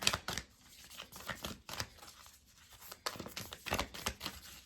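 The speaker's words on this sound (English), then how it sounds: "these are not the easiest cards to shuffle, just because of their shape" Oddly shaped tarot cards being shuffled by hand: a steady run of close, crisp papery riffles and slaps that continue unevenly, with no talking.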